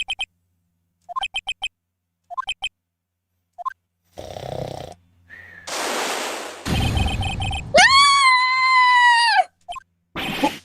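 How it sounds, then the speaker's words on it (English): A blood-curdling scream in the Ace Attorney video game, a sustained loud wailing cry that follows short beeping text blips and a burst of noisy effects, with a brief blip after it. "That blood-curdling scream came from the courtyard!"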